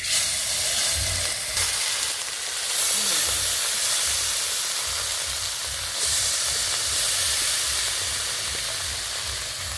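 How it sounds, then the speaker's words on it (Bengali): Spice-coated parshe fish hit hot oil with cumin in a wok and sizzle in a loud, steady hiss right up close, with low clatter and faint voices underneath. "এবার মশলা মাখানো মাছগুলো কড়াইতে দিয়ে দেব।"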